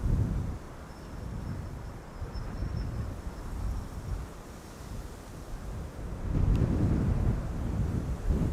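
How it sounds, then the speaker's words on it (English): Strong wind gusts buffet an outdoor microphone beside an airport runway, a continuous low roaring rumble that swells and eases, loudest near the end, with no voices. "that's the wind picking up"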